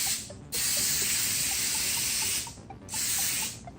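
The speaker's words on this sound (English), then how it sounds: "We have our spray." Two sustained bursts of cooking oil spray hiss up close over popcorn, separated by a short pause, with faint clicks underneath.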